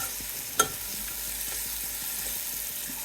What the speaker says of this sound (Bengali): এখন আমি একটু কষিয়ে নেব এটাকে।